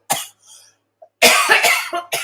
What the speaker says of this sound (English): Let me mute this because I'm going to be coughing again.